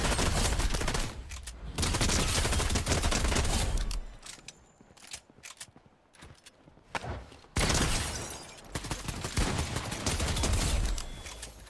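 Gunfire in a first-person shooter video game, loud sustained bursts of rapid shots at the start and end with a quieter stretch of scattered single shots and clatter between.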